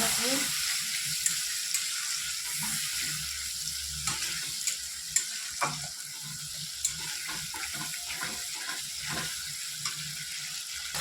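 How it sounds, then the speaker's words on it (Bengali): Spices sautéing in a hot pan give a constant close sizzle and crackle, with occasional stirring scrapes and small clinks throughout and no talk. "মশলা আমার কষানো হয়ে গেছে রেডি হয়ে গেছে"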